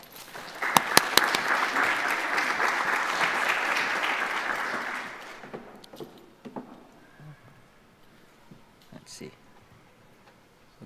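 A conference audience claps to welcome a scientist speaking on sedimentation and coral reefs in Guam, with steady, full applause for about five seconds that then thins to scattered claps and room noise.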